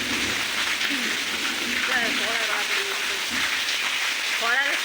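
Heavy rain falls steadily in close range, giving a constant dense hiss on surfaces through the whole stretch. Birds chirp faintly over the downpour.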